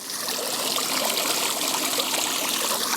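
Water flows and splashes steadily in an outdoor fountain, a close, continuous trickling wash with no talk over it.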